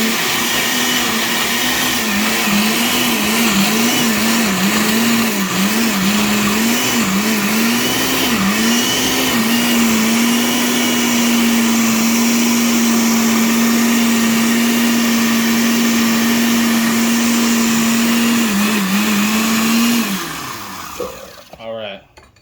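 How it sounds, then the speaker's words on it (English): A blender whirs loudly and steadily while blending a sauce, its motor pitch wavering briefly at the start then holding a constant drone for about twenty seconds before it winds down and stops. "We're going to blend and adjust as we go."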